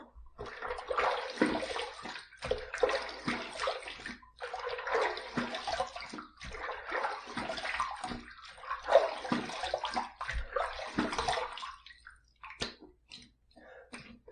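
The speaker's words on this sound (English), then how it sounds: "Okay, we're going to rinse this off." Water splashing and running as a face is rinsed during a wet shave, with continuous close splashing in uneven surges across the whole stretch that thin out near the end.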